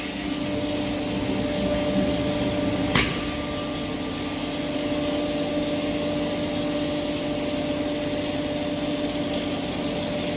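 A coriander grinding machine runs with a steady, loud mechanical drone and whine that holds unchanged throughout, broken only by one sharp click early on.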